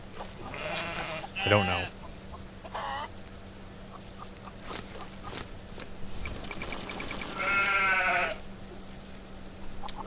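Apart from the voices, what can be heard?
sheep bleating in a video game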